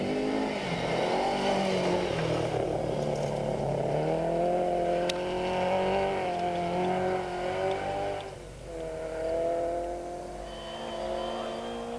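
Class C Volkswagen Golf 1600cc rally car competing in the 1988 Tour De Valvoline, its engine droning steadily and close with rising and falling revs as it drives, no voices present.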